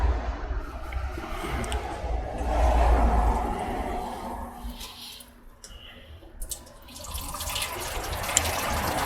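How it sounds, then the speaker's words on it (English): Water driven by a pump rushes through a sluice pipe used for gold prospecting, a steady, fairly loud broadband gush that swells, dips for a moment, then returns. "turn the water on."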